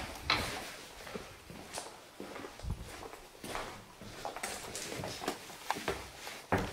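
Footsteps climb a staircase indoors, heard as a faint, irregular series of soft thumps and creaks over a quiet, noisy background.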